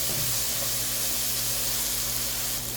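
Chayote with ground beef and oyster sauce stir-frying in a pan, giving a steady close hiss and sizzle throughout with no talk.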